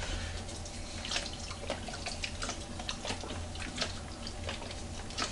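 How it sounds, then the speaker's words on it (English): Liquid sloshing inside a film developing tank as it is turned over and over, a steady close-up wash of watery churning with small splashy peaks throughout. "we have to continuously invert the tank for the first 30 seconds"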